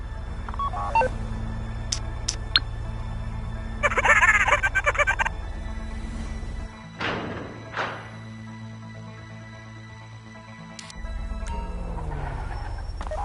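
Phone keypad dialing tones sound in a GTA V heist as a vault door is triggered: a few short beeps, then a louder burst of rapid tones, followed by clunks and mechanical movement over a low background hum.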